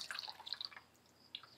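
Water drips from freshly dyed wet wool fiber into a bowl as it drains, giving a quiet, close series of small plinks, with a brief cluster early on and a single clear drop near the end.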